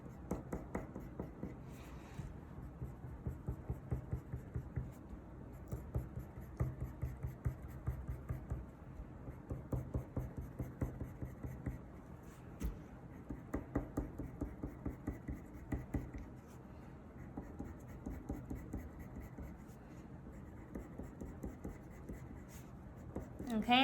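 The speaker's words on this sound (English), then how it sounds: "I'm going to start using the other side of the crayon" Steady scratchy rubbing of the side of a crayon across paper while drawing birch trees, close and soft, with rhythmic repeated strokes continuing throughout.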